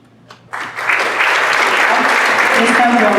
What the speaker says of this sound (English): Please don't do a round of applause in here.